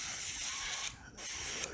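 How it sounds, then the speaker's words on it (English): Olive oil cooking spray hisses steadily from a can onto chicken being readied for an air fryer, close and loud, with a brief dip before a second continuous burst. "I like olive oil spray."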